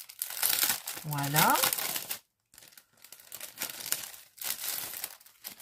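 A sticker package is torn open, giving close bursts of crinkling, rustling plastic wrap with a short pause midway, while someone speaks briefly in French.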